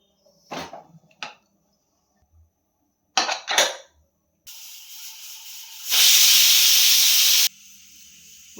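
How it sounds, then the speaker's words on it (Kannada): A pressure cooker on a stove releasing steam through its whistle, with a few short sharp hisses followed by a long loud continuous hiss that surges, cuts off and leaves a softer hiss, close by. "ಒಂದು ವಿಷಲ್ ಬಂದಿದೆ, ನಾನು ಸ್ಟವನ್ನು ಆಫ್ ಮಾಡ್ಕೊಳ್ತಾ ಇದ್ದೀನಿ."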